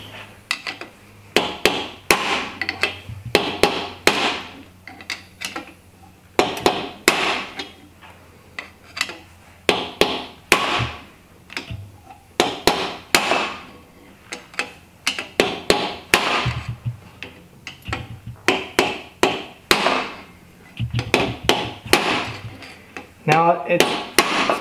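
Repeated metal hammer strikes drive a bearing race out of a rebuilt GM 10-bolt axle in a shop, sharp loud blows in irregular bursts across the whole stretch with brief pauses between them.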